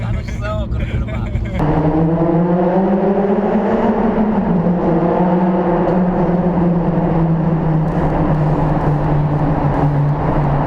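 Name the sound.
Honda Civic Type R FD2 engine, loud exhaust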